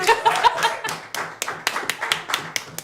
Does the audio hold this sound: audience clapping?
yes